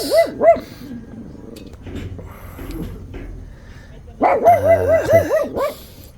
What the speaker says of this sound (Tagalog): At yung aso ko, tahol na naman sa labas.